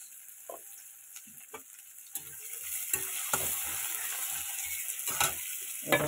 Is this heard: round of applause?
no